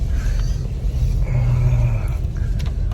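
Long Kia car driving over a rough, worsening dirt road, a steady close low engine and road rumble with bumps and rattles throughout, no talk.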